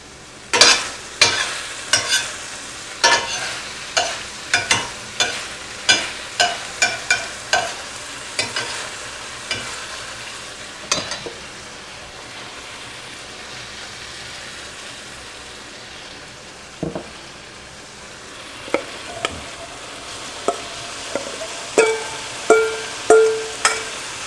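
Beef tips searing in a pan over a high flame as a steady hiss, with repeated sharp spatter pops and clanks of stirring at a regular pace that ease off briefly midway, heard close and alone.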